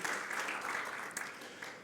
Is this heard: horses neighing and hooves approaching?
no